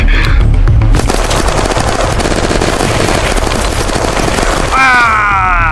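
Rapid automatic gunfire in Unturned, a dense sustained burst of shots lasting several seconds, loud and close, with a brief electronic whine near the end.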